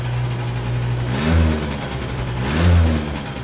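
An old engine that sat for years, its carburetor just refitted, idles and then revs twice, each throttle blip rising and falling, loud and close.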